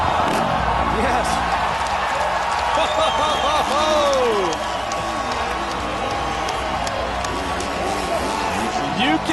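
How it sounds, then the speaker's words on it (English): A crowd at an outdoor competition cheers and applauds, with whoops and shouts rising over steady clapping, then a slightly quieter roar as the noise carries on. "You can hear the crowd."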